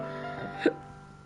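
A single short hiccup, a quick faint voiced catch in the throat standing alone against quiet background hum.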